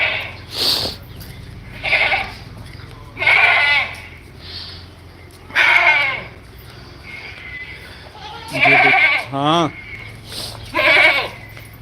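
Beetal and Barbari goats in a herd of about forty bleat again and again. The loud, wavering calls are close by and come in uneven bursts, with people talking quietly in the background.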